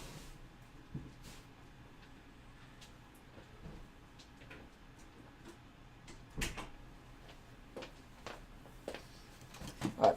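In a quiet workshop, a door is handled and closed with a scatter of faint clicks and knocks, ending in a few louder latch bumps near the end.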